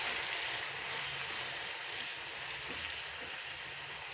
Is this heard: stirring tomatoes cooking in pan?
yes